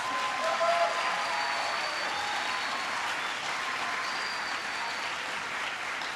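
Sustained, dense applause from a large audience for students at a public address, a steady wash of many hands clapping that fills the room, heard from a distance and continuing evenly with no talking.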